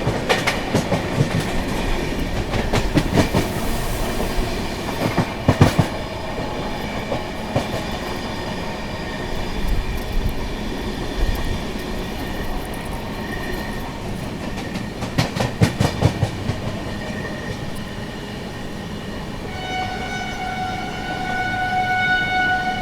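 The 22449 Poorvottar Sampark Kranti Express running at speed through Dadri without stopping, a sustained loud rumble with rhythmic clickety-clack of wheels over rail joints, sharp bursts of passing clatter, and a tonal horn-like wail near the end.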